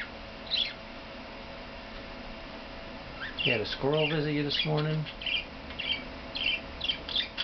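A pet budgie chirps in short, bright tweets scattered throughout, with someone talking over it in the middle.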